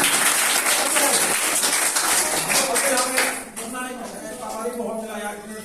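Audience applause at a seminar hall in Matkuria, Dhanbad, dense and loud for about three seconds, then dropping to softer scattered clapping mixed with chatter.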